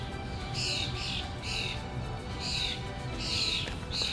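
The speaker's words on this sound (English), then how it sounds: "Listen to the birds." Birds call outdoors in a vegetable garden in short repeated bursts, spaced about a second apart, over a steady background hiss.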